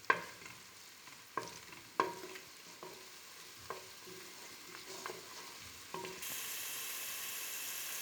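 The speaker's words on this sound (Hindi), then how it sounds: "तो मैंने प्याज को जो है ऑयल गरम कर चुकी थी मैं, और प्याज मैं इसमें फ्राई कर रही हूँ।" Onions sizzle and fry in hot oil in a pan, a steady crackling hiss broken by a few stirring knocks, and the sizzle grows louder and brighter near the end.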